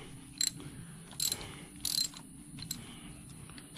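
A ratchet loosens valve cover bolts on a Suzuki LTZ400 ATV engine: a few short, bright bursts of clicking at a moderate distance, separated by quiet pauses, with no talk.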